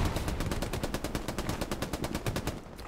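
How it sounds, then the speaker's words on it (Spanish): Tank machine gun firing in the World War II shooter Hell Let Loose on the Stalingrad map, a steady rapid rattling burst of evenly spaced shots, moderately loud and sustained. "La ametralladora del tanque suena como un tambor de hojalata"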